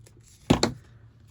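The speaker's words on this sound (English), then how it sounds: "I am going to cut it a little closer" Scissors cutting paper for a craft project make two quick, close snips in close succession against a quiet room.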